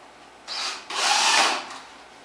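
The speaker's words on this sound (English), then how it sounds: "I'm screwing this partition in with 1¼ inch drywall screws" Cordless drill driving 1¼ inch drywall screws into a pine wardrobe partition, with two close whirring bursts, a short one and then a longer, stronger spin, before falling quiet.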